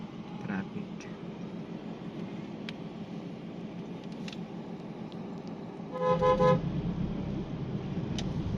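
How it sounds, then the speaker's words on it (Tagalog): Steady street traffic rumbles throughout, then a car horn honks in a short burst of repeated toots near the end. "Traffic."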